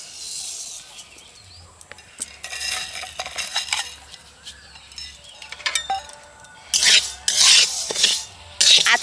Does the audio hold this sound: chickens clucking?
no